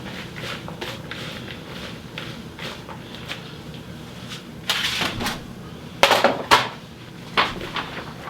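Seasoned onions are set onto a metal sheet tray with a few close, sharp clanks and rattles, after a stretch of softer kitchen handling noises.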